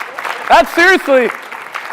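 Audience applause in a sales-training session, a steady wash of clapping running beneath a voice briefly speaking over it.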